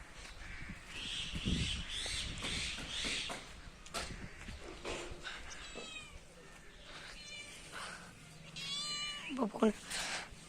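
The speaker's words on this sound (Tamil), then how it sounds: "நம்ம பூனையை போய் பார்ப்போம்" A cat meows repeatedly near the Kolli Hills, giving several clear, drawn-out cries in a row, with people talking around it and other background sounds.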